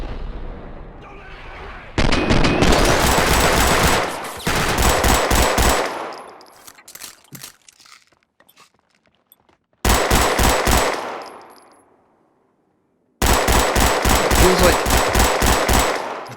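Gunfire in the video game Max Payne 2 comes in loud, rapid bursts of shots, fired in separate volleys with quiet gaps between them, with no talking.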